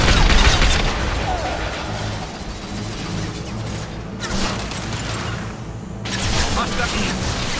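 Heavy gunfire and booming blasts from a Mass Effect 2 firefight keep up a dense, loud barrage for the whole stretch, with short lulls before it surges again.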